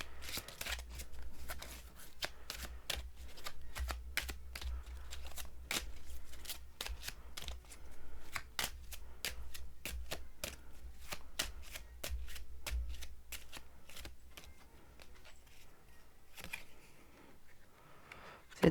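Playing cards are shuffled and dealt in a quiet room, a run of quick, crisp riffling snaps and flicks close to the ear, easing to sparser card slaps near the end.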